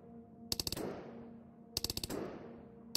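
Two quick bursts of four or five shots each from a weapon in Into The Radius, sharp and close, each burst trailing into a short echoing decay, with a lone shot at the end.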